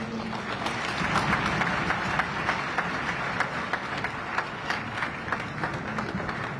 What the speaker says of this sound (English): Another round of applause, please, for His Excellency